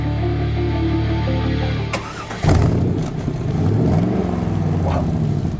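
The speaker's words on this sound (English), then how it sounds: "We'll fire up the C2 and go for a ride." C2 Corvette engine starting up then revving and pulling away, a loud, close mid-pitched roar with rising and falling pitch sweeps, no talk.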